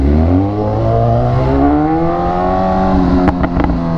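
A BMW S1000R motorcycle engine revs close by, pitch rising and settling in a steady throaty drone, with a few quick sharp blips near the end.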